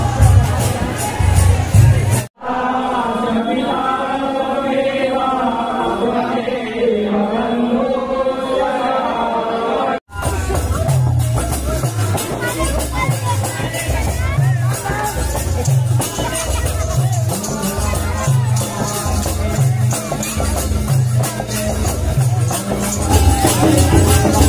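Dense crowd noise fills a Shiv Baraat procession with a Maa Kali tandav tableau at Talagaon, a steady loud hubbub of voices over pulsing low rhythmic music, with a brief tonal chanting passage near the start.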